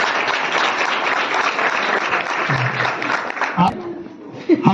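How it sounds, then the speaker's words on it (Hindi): An audience applauds a birthday gift at a teacher's birthday celebration. The steady clapping fades toward the end, where a voice speaks briefly. "आप लोग ताली बजाइए इसके लिए।"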